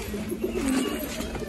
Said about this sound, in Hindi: देख सकते कबूतर चुग रहे हैं